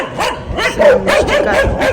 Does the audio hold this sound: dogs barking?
yes